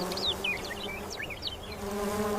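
Insects buzz steadily around an elephant coated in wet clay, a close, continuous drone with shifting high whines as individual flies pass, no voices.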